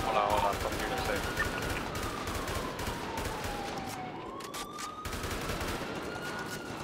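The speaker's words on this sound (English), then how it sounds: "Shots from the roof again?" Gunfire rains down from a rooftop during a GTA roleplay shootout in Little Seoul, with rapid overlapping bursts and single shots crackling loudly and continuously while players talk underneath.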